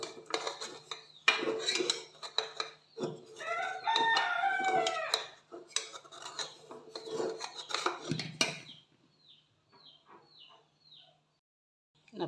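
Metal utensils scrape and rasp against a cooking pan while food is lifted out for an evening snack, close and busy at first, then a faint rooster crows a few times in the quiet that follows.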